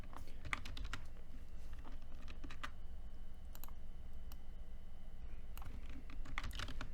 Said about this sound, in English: we'll just type here